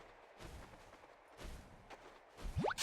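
Gunfire in the video game Heroes of Newerth: faint, scattered muffled shots and thuds in a busy game mix, ending with a sharp rising electronic sweep.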